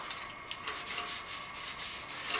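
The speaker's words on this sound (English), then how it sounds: "so I'll take a pad to it and just denib this" An abrasive pad rubs steadily against a sealed walnut live-edge platter turning on a wood lathe, a soft continuous hiss with gentle rhythmic swells, close and quiet, with no talk.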